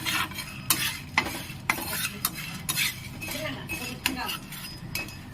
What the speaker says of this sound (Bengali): এটা আমি বেশ ভালোভাবে লাল লাল করে ভেজে নেব।